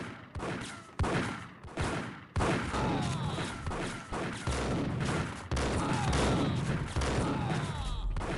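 Gunfire in the Max Payne Mobile video game comes as dense, loud bursts of automatic shots. It goes on almost without a break, with short pauses between bursts and other game noise layered in.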